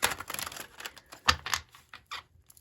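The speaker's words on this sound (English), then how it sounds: "One more shuffle." Tarot cards are shuffled by hand in a run of quick, crisp riffling and patting bursts, close up and fairly quiet, with brief pauses between passes and no talk.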